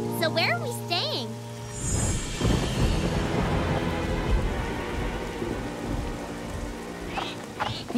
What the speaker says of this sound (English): We'll just have to wait the rain out.